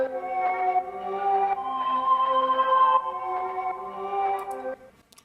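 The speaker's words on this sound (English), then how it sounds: "in Omnisphere, I used the olden days flutes, and that sounds like this" Omnisphere's olden days flutes patch playing a short phrase of soft, breathy sustained chords that change every second or so, mellow and reedy, alone without any talking.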